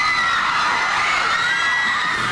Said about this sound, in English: I guarantee you won't be cheering like these people